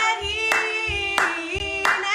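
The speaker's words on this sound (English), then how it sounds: "People are clapping." A group claps in a steady rhythm at a Simchat Torah celebration, with about three loud, sharp bursts of hand claps keeping time over sustained music.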